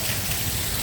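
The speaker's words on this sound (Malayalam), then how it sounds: "മഴയുടെ ശക്തി നിങ്ങൾക്ക് ശബ്ദത്തിലും" Torrential rain during the 2024 Ajman flood pounds down in a dense, unbroken roar, loud and close throughout the short moment.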